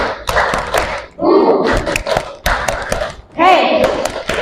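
Children in a classroom clap game strike their hands in quick synchronized claps, sharp and close, alternating with a teacher calling the count and the class chanting back.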